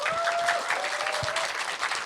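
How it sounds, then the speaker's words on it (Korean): An audience claps steadily and loudly throughout a movie talk event for the Korean film 천문: 하늘에 묻는다, with the applause dense and even and faint tonal sounds beneath it. "큰 박수 부탁드립니다."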